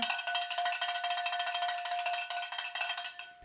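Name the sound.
cowbell being rung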